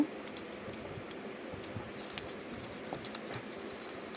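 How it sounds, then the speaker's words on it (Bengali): Chopped garlic, a teaspoonful, frying in hot oil in a pan for Hakka noodles: a steady crackling sizzle with small scattered pops, close and fairly quiet, without speech. "তেল গরম হয়ে গেছে, আমি 1 টিস্পুন রসুন কুচি অ্যাড করে দিয়েছি।"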